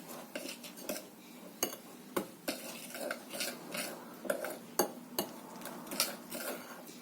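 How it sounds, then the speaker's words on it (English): Peanut butter cookie dough being mixed with sugar in a bowl, a run of soft scraping strokes broken by sharp clinks of the utensil against the bowl, close and fairly quiet. "So now I put in the sugar, so let's mix again."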